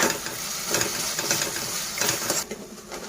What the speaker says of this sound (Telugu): ఇందులోనే అల్లం వెల్లిపాయ పేస్ట్ కూడా మగ్గించుకుందాం